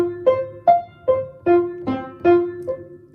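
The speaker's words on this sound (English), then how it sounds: "okay, without the sustain pedal, that would sound like this." Short, detached piano notes played without the sustain pedal, about eight separate strikes that each cut off quickly instead of ringing together; close and clear, with no talking.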